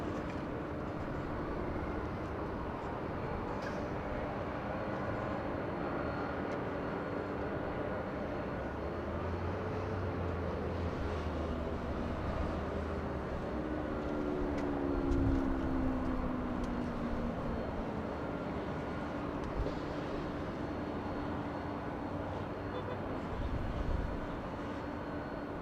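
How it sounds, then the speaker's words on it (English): A distant Boeing Dreamliner airliner at LAX gives a low, steady jet rumble with a faint tonal whine that rises and swells around the middle before settling, under continuous ambient airport noise. "In the distance, we have that Dreamliner,"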